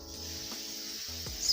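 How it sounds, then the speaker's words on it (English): A short, steady hiss of hairspray from an aerosol can, close by and continuous for about a second and a half. "So you get a little bit of hairspray."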